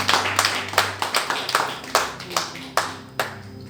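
A church congregation claps in praise of the Lord, about nine sharp rhythmic claps spread across a few seconds, with a low hum beneath and no voices over them.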